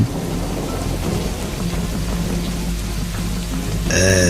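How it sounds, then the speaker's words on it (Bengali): Heavy rain pours down in a dense, steady hiss while thunder rumbles low underneath throughout. "ভিজে যাবেন তো এই বৃষ্টিতে"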